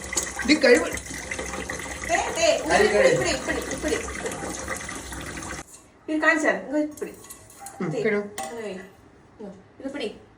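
Dishes being washed under running water, a steady rush with clatter for about five seconds, then the flow stops and people talk, a small child among them, over faint clinks.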